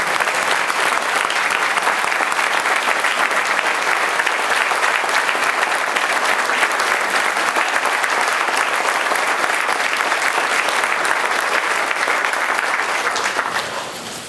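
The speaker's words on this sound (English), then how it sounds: "Would you applaud them for it?" Loud, sustained applause from a large crowd at a mayor's first speech in Midland, a dense continuous roar of clapping that holds steady before tapering off at the end.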